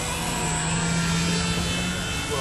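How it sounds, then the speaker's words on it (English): A small model airplane engine on a 3D aerobatic plane drones steadily at a high, buzzing pitch, holding a constant whine close by for the whole stretch with no talking. "I want to slow the airplane down on a little bit of extra throttle"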